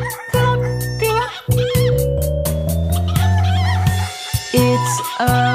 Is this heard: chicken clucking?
yes